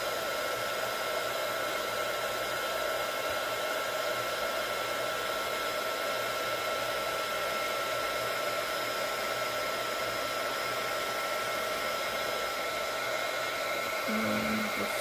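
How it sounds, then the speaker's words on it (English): An embossing heat tool melts embossing powder on a handmade card, giving a steady, even blowing hum that runs continuously at close range with no talking. "So I'm just going to heat it from the bottom, and then I'm going to go ahead and emboss it from the top."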